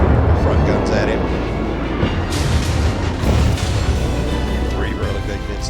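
Ship's forward guns fire in a naval battle game, a dense rumbling barrage of booms and blasts rolling continuously across the stretch under a low, heavy roar.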